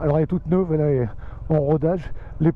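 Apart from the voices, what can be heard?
No everyday noises stand out.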